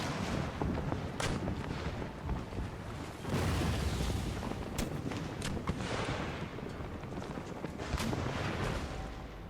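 Artillery bombardment in the video game Empire Total War, with repeated booming cannon blasts and sharp reports scattered over a constant rumbling battle din, a couple of heavier volleys standing out.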